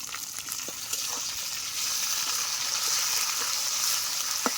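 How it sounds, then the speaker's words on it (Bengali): Garlic, ginger paste and chopped tomato fry in a pan with a soft, steady sizzle and scattered tiny pops and crackles, quiet and continuous. "এই মশলাগুলো ভাজা হতে হতে আমি গুঁড়ো মশলাগুলোর একটা পেস্ট বানিয়ে নেব।"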